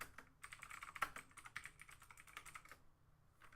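Quick, light clicking of keys on a computer keyboard, a burst of irregular keystrokes typed rapidly and heard close and quiet, with a short pause near the end before a few more taps.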